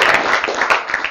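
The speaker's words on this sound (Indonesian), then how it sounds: "Jadi tepuk tangan untuk Anda yang di sini yang serius." Brief burst of dense audience clapping at a distributor club meeting, loud and steady throughout.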